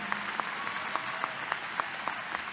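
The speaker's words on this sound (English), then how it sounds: "Give them a round of applause." Sparse audience applause for teachers and staff at a 2017 senior high school graduation, distinct individual claps spaced in a loose rhythm over a faint room hum.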